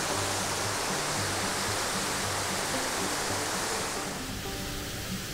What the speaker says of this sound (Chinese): 在这里听水流潺潺的声音，